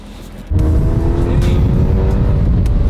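A Ferrari GT4 Lusso V12 all-wheel-drive engine roars to life and holds a loud, steady high-revving drone, accelerating hard close by.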